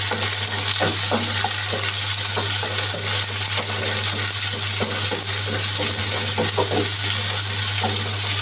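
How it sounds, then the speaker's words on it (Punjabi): Onions and tomatoes frying in a pan over a light flame for kadhai paneer, a steady loud sizzle with intermittent scrapes and stirring clinks, over a constant low hum. "ਪਿਆਜ਼ ਪਾ ਦਾਂਗੇ ਇਸ ਨੂੰ ਆਪਾਂ ਲਾਈਟ ਫਲੇਮ ਤੇ ਥੋੜਾ ਜਿਹਾ ਭੁੰਨਣਾ ਹੈ"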